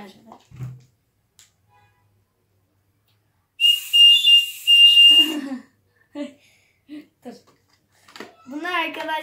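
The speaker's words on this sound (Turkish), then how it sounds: "Ben şu düdüğü nasıl takacağım" A toy whistle from a box of toys gives one shrill, steady blast lasting over a second, loud and close. A voice talks briefly before and after it.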